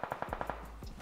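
Automatic gunfire in PUBG Mobile on the Sanhok map: a rapid burst of about six sharp, evenly spaced shots up close, followed by a couple of trailing impacts.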